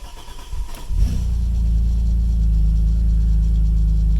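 An Alfa Romeo 166 engine after a Bosch ECU repair cranks briefly, catches, and settles into a loud, steady idle with a deep low rumble that continues to the end.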